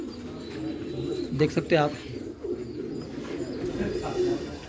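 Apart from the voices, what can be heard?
pigeon cooing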